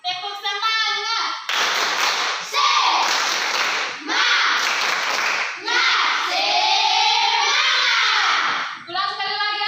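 An 8th-grade class performs a patterned spirit clap in bursts of loud, rhythmic group clapping, with a teacher's voice speaking between the rounds.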